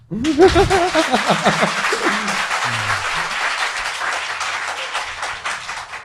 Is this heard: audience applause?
yes